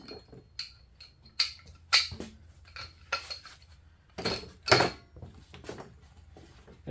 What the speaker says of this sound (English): The bead, we'll break the bead on the back side here and then flip it over.